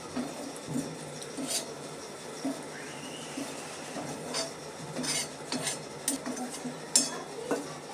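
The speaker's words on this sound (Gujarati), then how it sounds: "સખત હલાવતા રહીએ." Coconut is stirred as it browns in a pan, with intermittent metallic scrapes and clinks of a spoon over a low background hum.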